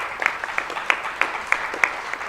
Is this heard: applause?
yes